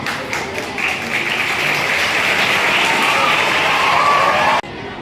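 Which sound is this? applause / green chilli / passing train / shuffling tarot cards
applause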